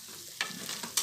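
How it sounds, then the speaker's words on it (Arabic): A spoon stirs food in a cooking pot, giving a few quick scraping sweeps with a faint sizzle underneath, close and fairly quiet with no talk. "هقلب كل ده بقى كده مع بعضه شويه"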